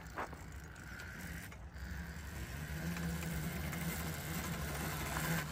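A Mototec 1600w 48v electric dirt bike climbing a steep slope gives a steady faint electric whine with mechanical chain and drivetrain rattle, rising slightly in strength as it approaches.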